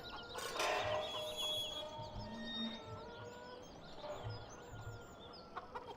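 Chickens cluck and murmur softly at a moderate distance in the video game Farming Simulator 17, with a few louder squawks and calls scattered among the steady low clucking.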